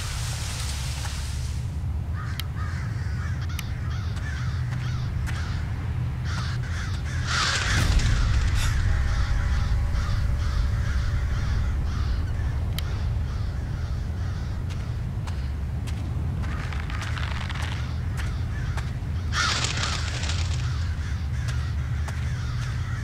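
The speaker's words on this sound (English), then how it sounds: "these are crows" Crows caw repeatedly in the horror video game Pineview Drive. The harsh calls come in scattered bursts over a steady low ambient drone with faint clicks, moderately loud, and there is no talk.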